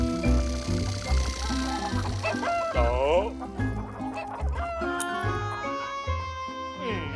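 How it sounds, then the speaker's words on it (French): Hungry hens cluck continuously over a musical backing, with a few bird squawks rising above the steady farmyard chatter. "Tu peux être sûr que ces poules affamées te suivront bien."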